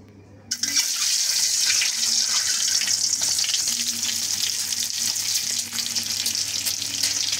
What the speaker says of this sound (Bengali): এখন ডিমগুলোকে তেলের মধ্যে ভেজে নিব।